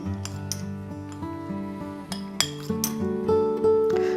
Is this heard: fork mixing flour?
yes